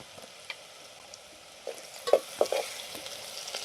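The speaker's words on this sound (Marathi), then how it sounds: "चांगले तळून घेतलं सगळं कारली टाकून घेते" Masala with garlic and whole spices frying in a pan for stuffed bitter gourd, a soft steady sizzle with a few sharp stirring scrapes and taps near the end, close and quiet with no talk.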